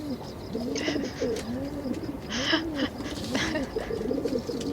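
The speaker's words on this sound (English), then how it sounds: "So you take care of all the pigeons here?" Pigeons coo softly and steadily in a fantasy video game, a rolling low murmur of calls repeating throughout, with faint chirps above and no talking.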